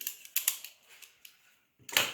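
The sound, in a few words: cutting strips of cardboard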